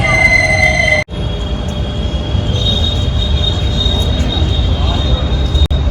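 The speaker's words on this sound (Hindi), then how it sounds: "ये मेट्रो की लाइन है।" Metro train passing along an elevated line in Modinagar, a steady loud rumble of wheels with a high, sustained squeal running throughout, briefly cut once near the start.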